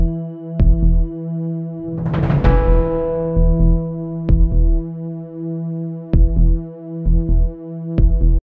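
A TIG welding torch runs with its cup resting on the joint in the vertical 3G position. It gives a steady, loud electrical hum that pulses in regular throbs, with a brief crackling burst near the start.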